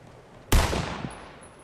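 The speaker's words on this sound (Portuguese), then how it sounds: "acertou um tiro em mim" A single sharp gunshot cracks out in a Fortnite match, loud and close, followed by a short decaying tail.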